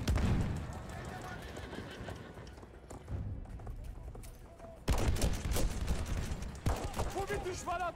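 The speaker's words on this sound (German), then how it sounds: "Das scheiß Pferd stirbt aber auch nicht" Horse whinnies and hoof clatter in the World War I shooter Battlefield 1, mixed with bursts of gunfire and battlefield noise, loud and dense, with a high neigh rising near the end and voices chatting underneath.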